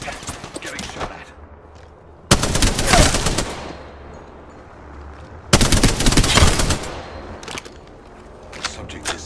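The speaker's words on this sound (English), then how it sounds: "Getting shot at." Bursts of game gunfire from the aerial combat game Spitfire: Legends, two loud sustained volleys of rapid shots separated by quieter stretches with scattered fainter pops, close and dominant.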